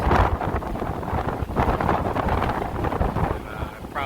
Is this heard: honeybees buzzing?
no